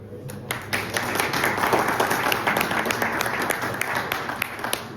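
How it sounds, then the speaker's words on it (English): Audience members at a football scouting panel clap together in a steady, moderately loud wash of applause that rises quickly and continues evenly for several seconds, with a low hum beneath it. "let's clap all of you now for coming here"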